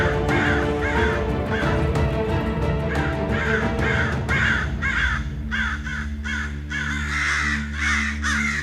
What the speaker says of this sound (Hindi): इतने कौवे और वो भी इस समय। हे राम, ये तो अपशगुन हो गया।